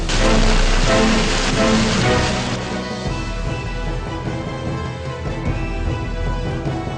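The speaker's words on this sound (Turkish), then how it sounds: "Havadan adeta mermi gibi dolu taneleri yağdı bugün Ankara'ya." Egg-sized hail pelting down over Ankara, a loud dense roar of impacts that starts heavy and eases slightly after a few seconds, continuous and close, with no voices.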